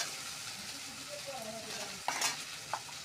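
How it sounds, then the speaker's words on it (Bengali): Medium-size chopped tomatoes stirred and frying in a pan for a katla fish curry with mustard paste, a steady soft sizzle with a few scraping stir strokes, close and moderately quiet, no talking. "কিছুক্ষণ নাড়াচাড়া করে এর মধ্যে কেটে রাখা মিডিয়াম সাইজের টমেটো দিয়ে দেবো।"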